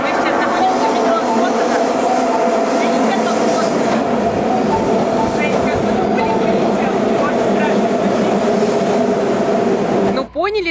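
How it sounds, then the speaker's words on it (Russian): A subway train in Japan runs loudly with a continuous rumbling roar and whining tones, people talking faintly beneath, and a rising metallic squeal near the end. "Осака, а в метро поезда звучат как осы"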